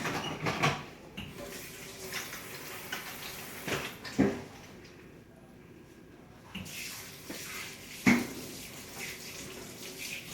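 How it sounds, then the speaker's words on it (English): Tap water runs into a sink during handwashing, a fairly quiet, steady splash broken by a few sharp knocks and clatters and a brief lull midway. "Let me just wash my hands."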